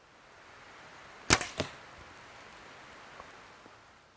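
An arrow shot from a compound bow fitted with an HHA Optimizer King Pin sight: one sharp loud release snap followed a moment later by a second impact thud, then a quiet outdoor background.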